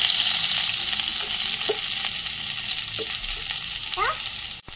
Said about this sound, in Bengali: এটা গরম হয়ে গেছে, এখন পেঁয়াজটা দিয়ে দেবো